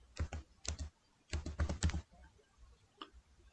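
Quick bursts of key presses on a computer keyboard, several rapid clusters of clicks close to the microphone, then a single last tap, with no talk.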